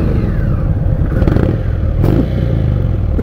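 Stock exhaust on a 2019 Indian Scout Bobber motorcycle, steady and close, with a rumbling low engine note and a slight rise in revs midway, breathy and airy rather than sharp, with some clattering mechanical noise.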